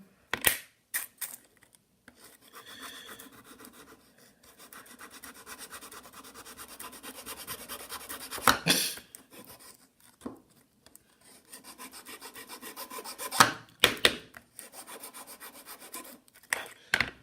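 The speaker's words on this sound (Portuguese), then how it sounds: "Então você passa a lima." A hand file rasps against a paper model 1911 pistol in short back-and-forth strokes, close and scratchy, separated by pauses and a few sharper handling knocks.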